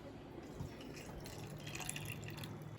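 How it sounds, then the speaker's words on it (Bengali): Hot water poured into a pot of chicken biryani cooking over a high flame, a steady close trickle and splash running without a break. "তো এই জলটাও দিয়ে দিচ্ছি।"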